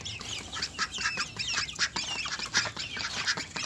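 Ducks and other farm fowl crowd around poured feed of crushed grain and mash, a dense chorus of overlapping quacks and chatter close by and steady throughout, with no talking.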